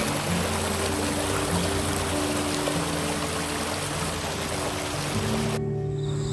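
Waterfall and stream water in the Ulu Bendul forest reserve, Negeri Sembilan, rushing in a loud, steady, close wash that cuts off abruptly near the end.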